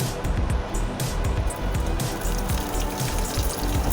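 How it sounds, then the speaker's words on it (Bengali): Nigella seeds are dropped into hot oil for tempering while cooking taro stems, giving a steady close hiss of sizzling that stays fairly loud throughout. "এর মধ্যে আমি এখন কালো জিরা ফোড়ন দিয়ে দিলাম।"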